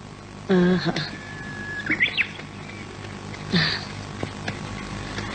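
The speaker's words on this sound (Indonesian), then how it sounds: "Marni mau menangkap burung itu." A bird chirps outdoors in a few short, bright bursts spaced across several seconds over a quiet background hum.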